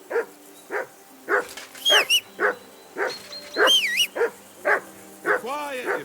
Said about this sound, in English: that barking's driving me nuts